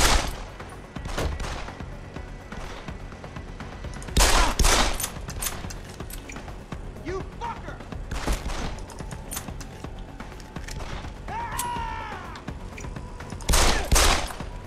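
Bursts of gunfire from the video game Deus Ex: Human Revolution crack out repeatedly, with several loud volleys spaced across the clip over a continuous game-like background; no one speaks.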